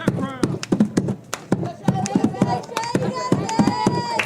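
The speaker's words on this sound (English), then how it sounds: "5-gallon bucket drum going on." Fans at a high school softball game pound a five-gallon bucket drum in sharp, uneven beats, echoing around the field beneath ongoing commentary and crowd noise.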